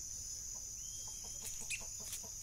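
Chickens and hens on a farmyard feeding ground cluck in short, soft, scattered bursts, faint and somewhat distant over a steady background hum.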